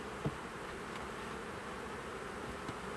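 Honey bees buzz steadily around a flow hive at an apiary during a summer hive inspection and honey harvest, a continuous dense hum with no pauses and no voices.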